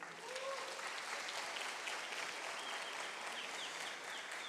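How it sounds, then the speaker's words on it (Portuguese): Church congregation applauding steadily throughout, a dense, even wash of clapping from many hands with a faint murmur underneath. "Vamos dar um aplauso bem forte a ele"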